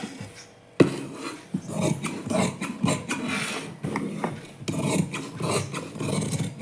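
Scissors slice through blouse fabric in steady, rasping snips close by, repeating rhythmically and continuously with no talking.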